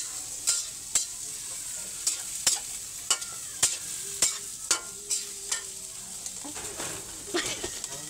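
Shrimp paste (alamang) stirred while it fries in a pan, with a steady sizzle broken by a series of sharp utensil scrapes and taps spaced about every half second, close and moderately loud, with no talking.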